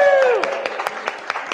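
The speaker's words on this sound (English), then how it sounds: "Carry on the claps, don't make this awkward." At a live podcast taping, scattered audience claps continue as someone speaks over them, with sharp individual hand claps popping up irregularly beneath the talk.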